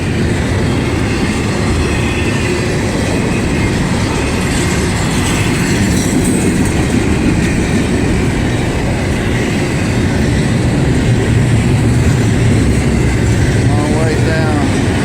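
Graffiti-covered freight cars rumble past nearby at Gary, a continuous loud roll of wheels with clickety-clack over joints and brief squeals of steel wheels on rail toward the end.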